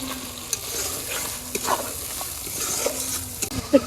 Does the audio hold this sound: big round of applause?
no